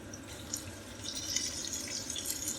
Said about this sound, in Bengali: একদম পানি ছড়িয়ে দিচ্ছি